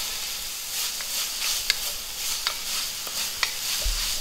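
Garlic fries in a pan for Hungarian-style beef tripe, giving a steady soft sizzle broken by a few sharp spatters and stirring clicks, close up with no talking.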